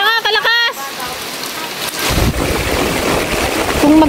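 Heavy rain pounds down while floodwater rushes along a street during a typhoon, a dense, loud, steady roar; a brief voice is heard at the very start before the downpour swells.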